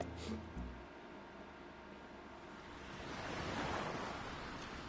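Small waves wash over a shallow shoal beach in the video game World End Syndrome. The surf is soft and distant, a faint wash that swells slightly toward the end.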